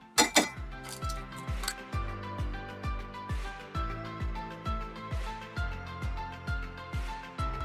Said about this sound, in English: So just crack those in there.